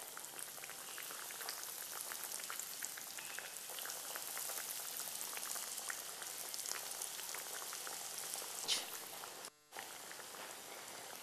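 Paneer cutlets frying in hot oil give a steady, dense sizzle with crackling pops, close and fairly even throughout, with a brief dip near the end.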